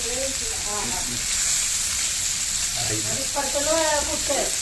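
Food fries in hot coconut oil in a pan with a loud, continuous sizzle and hiss, while people talk nearby over it.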